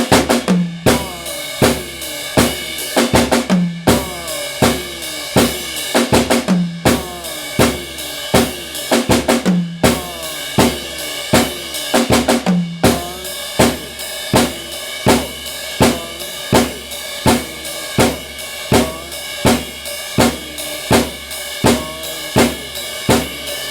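Drum kit playing a full song with fills: a steady rock beat of kick, snare and cymbals, loud and close, broken every few seconds by a quick fill into a crash.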